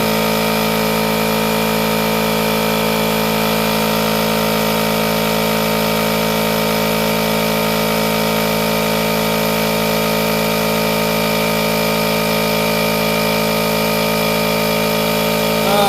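A Milwaukee battery-powered tire inflator pump runs steadily and loudly throughout, a constant motor drone with a high whine and no pauses or speech.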